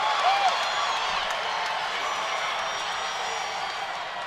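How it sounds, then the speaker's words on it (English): A steady roar from the arena crowd at a women's MMA main-event fight, a dense continuous wash of cheering under an excited commentator's voice. "crowd's loving it"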